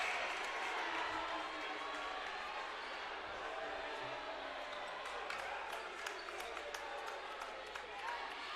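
Crowd at a high school basketball game in the Bishop Guertin at Nashua North matchup, a steady broad murmur of many voices with scattered shouts and sharp sneaker or ball sounds, a commentator talking over it.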